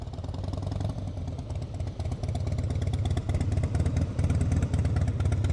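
A Harley CVO motorcycle at slow speed, its engine thumping and clattering steadily up close, rising slightly in loudness toward the end.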